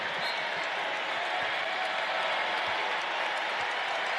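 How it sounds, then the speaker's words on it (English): Crowd at a Wake Forest Demon Deacons college basketball home game against UNC cheering and applauding in a dense, steady roar that fills the arena with no breaks. "the crowd coming to life in support of the Demon Deacons"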